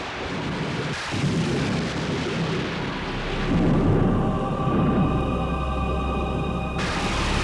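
A stormy night thunderstorm with rolling thunder rumbling under steady heavy rain, a continuous loud wash of noise with a deeper swell of rumble midway, no voices.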